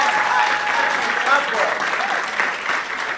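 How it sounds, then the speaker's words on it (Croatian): A crowd applauds steadily at the Viva film school festival, with continuous dense clapping throughout and faint voices mixed in. "molim vas, veliki aplauz za njih"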